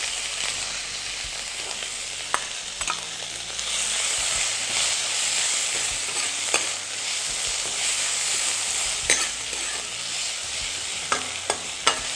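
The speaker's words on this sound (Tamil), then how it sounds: "இஞ்சியை நல்லா வதக்கிட்டு அதுக்கப்புறம் புளி கரைச்சி விட வேண்டியதுதான்" Ginger sautés in a hot pan with a steady, close sizzle and hiss throughout, broken by occasional sharp clicks and scrapes of a stirring spoon.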